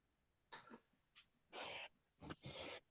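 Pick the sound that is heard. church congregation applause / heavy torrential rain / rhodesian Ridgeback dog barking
rhodesian Ridgeback dog barking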